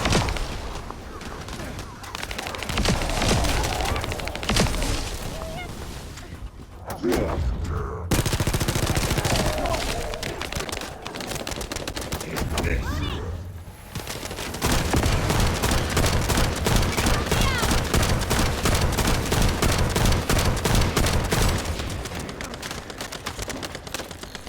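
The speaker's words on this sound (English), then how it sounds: "Why is the scout rifle so obnoxious?" Rapid scout rifle fire in The First Descendant rattles loudly in long dense bursts, with a short break before a sustained final volley and someone talking over parts of it.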